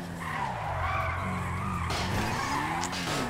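A Corvette with slippery tires drifts in GTA 5 on a snowy day, its engine droning loudly as the tires screech and skid continuously, the pitch rising and falling through the slide.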